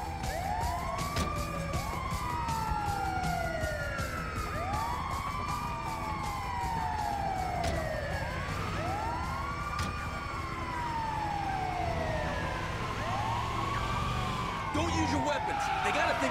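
Wailing ambulance siren in GTA 5, repeated rising-falling sweeps cycling steadily and loud, with a second siren tone layered in, over game vehicle noise and occasional character voices.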